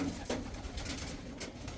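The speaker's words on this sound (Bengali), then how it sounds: "সবগুলোই কবুতরই আসছে" Soft, close cooing from racing pigeons back home after road training, a few low murmuring calls over faint background hiss.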